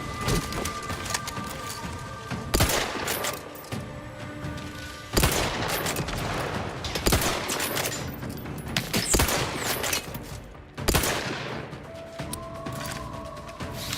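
Repeated bursts of gunfire in the video game Outer Worlds 2, clustered volleys with mechanical clicks and reload-like clatter between them, over steady in-game background sound.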